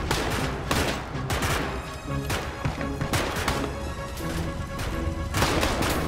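Rapid bursts of gunfire crackle through a large toy army men battle, sharp cracks repeating in dense clusters with heavier thuds between them, loud and constant.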